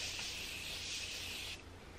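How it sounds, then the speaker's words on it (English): Morphe Continuous Setting Spray mists onto a face in one sustained close hiss lasting about a second and a half, then cuts off sharply. "I do also want to spritz my face with the Continuous Setting Spray by"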